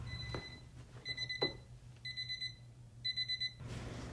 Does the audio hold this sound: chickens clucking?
no